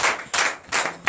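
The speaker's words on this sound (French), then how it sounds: "Donnez l'acclamation à Jésus." A church congregation claps in acclamation during a night service, three loud, sharp bursts of many hands in a steady rhythm, alone without talk.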